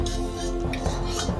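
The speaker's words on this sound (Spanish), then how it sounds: "La vas a mezclar en esta agua hirviendo para que se disuelva." Spoon stirring salt and sugar into boiling water in a pot while making churros: continuous close clinking and scraping of utensil against cookware, no voices.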